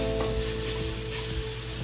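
Fatty meat stir-fries over high heat with a continuous close sizzle and soft scraping strokes of a utensil against the pan.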